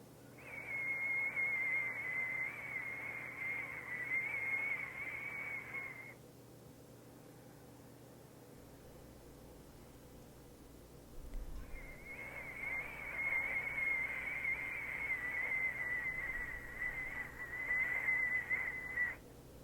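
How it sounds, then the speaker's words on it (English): A person whistles one long steady high note for several seconds, pauses briefly, then holds another sustained whistle, soft and close. "Listen deeply to the sound of your own whistle."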